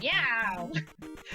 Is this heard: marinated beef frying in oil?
no